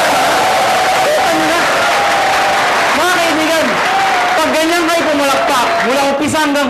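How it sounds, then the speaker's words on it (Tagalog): A live audience at a marketing plan presentation claps loudly and steadily throughout, with scattered cheers and whoops rising over the applause and a speaker's amplified voice heard underneath. "pag ganyan kayo pumalakpak, mula umpisa"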